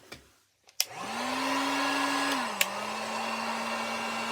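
An electric heat gun or hair-dryer-style heat tool blowing steadily while warming the hands of a McFarlane Toys DC Multiverse action figure; a couple of clicks, then the motor spins up and holds a continuous whir, alone.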